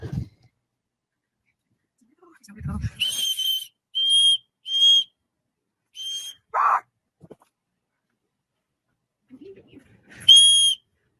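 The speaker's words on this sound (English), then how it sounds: "uses her whistle." Sharp, high whistle blasts sound several times, short bursts close by, mixed with some low thumps and rustling between them.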